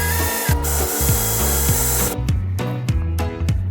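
A power drill driving screws into a bathroom rail inside an RV, whirring in short repeated bursts with brief pauses between them, close and fairly loud.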